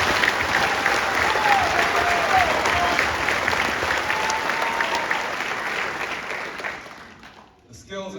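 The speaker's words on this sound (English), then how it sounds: "Please join me in the second round of applause for our graduates." Sustained applause from a large crowd at a military Basic Leader Course graduation ceremony honouring the graduates, steady and dense for about seven seconds before tapering off, with faint voices mixed in.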